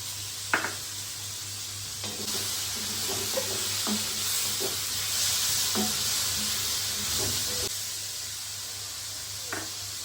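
Frying in a pan for dhaba-style paneer butter masala, with salt and cumin added: a steady close sizzle and hiss throughout, broken by a few soft stirring knocks of a spoon against the pan.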